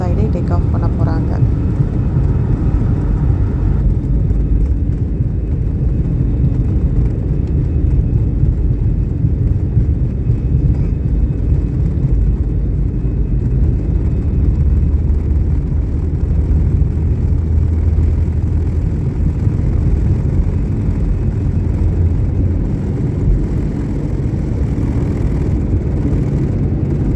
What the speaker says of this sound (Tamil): டேக் ஆஃப் ஆகிடுச்சு.